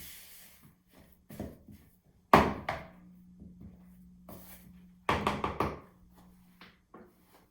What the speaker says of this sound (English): process of mixing the butter in with these sugars